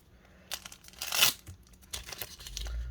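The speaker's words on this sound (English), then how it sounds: "Let me get this tape off" Packing tape tears and crinkles as it is pulled off a mail package, a few short ripping bursts with one louder strip in the middle, close by and fairly quiet.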